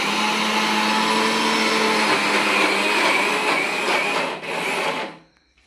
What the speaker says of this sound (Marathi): आज मम्मी इडलीसाठी तांदूळ बारीक करत आहे.